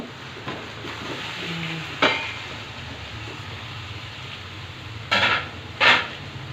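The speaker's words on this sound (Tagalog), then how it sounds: "Lagay na natin yung ating gulay." Chopped vegetables for pinakbet are stirred into a large cooking pot with a soft sizzle, and a spoon knocks against the metal in a few sharp clangs near the end.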